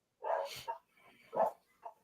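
A dog barks a few times at a distance, short sharp yaps with a brief whimper-like tail, heard alone in a quiet room.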